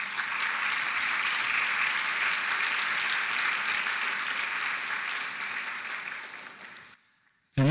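A round of applause fills a college science awards ceremony, steady and fairly even for about seven seconds before tapering off and stopping abruptly, with a short sound just at the end.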